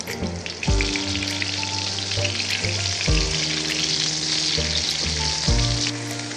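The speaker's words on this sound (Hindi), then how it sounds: "पाँच टेबलस्पून ऑलिव ऑयल में चिकन को बैचेस में फ्राई कर लें।" Chicken fries in batches in olive oil, giving a loud, dense, crackling sizzle close up that runs without a break, with several thumps and shifts as pieces are moved in the pan.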